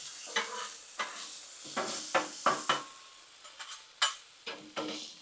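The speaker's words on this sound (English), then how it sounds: "Come here and stir things up just a little bit so they can keep on cooking." Potatoes cook on a Blackstone griddle under rhythmic spatula stirring, a series of sharp scrapes and clacks against the hot steel over a light, continuous sizzle.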